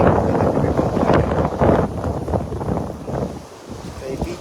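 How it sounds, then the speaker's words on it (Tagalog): Strong wind buffets the microphone in heavy, uneven gusts, a loud low rumble that rises and falls throughout. "Medyo malakas nga lang po yung hangin po mga idol, no?"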